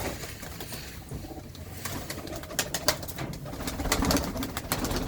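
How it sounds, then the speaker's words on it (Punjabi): Pigeons kept in a loft coo repeatedly among faint wing flutters and scattered clicks and knocks, fairly close and busy throughout, with the activity building toward the end. "ਲਾਜਵਾਬ ਕਬੂਤਰ ਨੇ ਬਾਈ ਹੁਣਾਂ ਦੇ"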